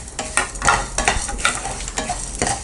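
Sesame seeds and black pepper dry-roast in a pan under quick, rhythmic stirring, each pass of the spoon making a rustling scrape over faint crackling, close and fairly loud.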